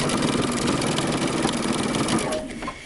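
A sewing machine runs steadily as it stitches close to the fabric edge while sewing a Simplicity 8123 dress, a continuous close whir that eases off near the end.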